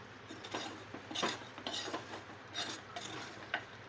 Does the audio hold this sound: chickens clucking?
no